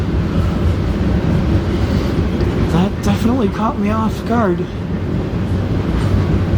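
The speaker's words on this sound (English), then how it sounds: "probably a phosphate fertilizer train" A CN manifest freight train of hopper cars, likely carrying phosphate fertilizer, rolls past nearby with a steady, heavy rumble and rattle, while someone talks over it partway through.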